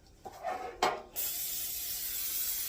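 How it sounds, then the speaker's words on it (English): Cooking spray from an aerosol can hisses onto a pan in a kitchen, a short burst, another burst, then a longer steady spray, close and fairly quiet with no talking. "let me spray the pan first"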